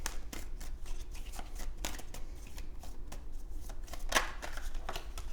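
Tarot cards are shuffled and drawn close up, a continuous soft riffling and flapping with occasional sharper card snaps, alone without talk.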